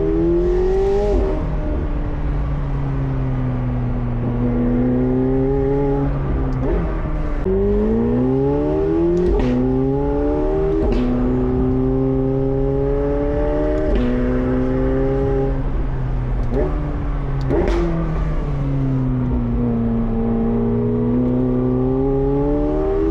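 A McLaren 750S on a back road revs and accelerates through repeated gear changes, the engine note climbing and dropping in rising sweeps, with sharp exhaust pops between shifts, loud and close.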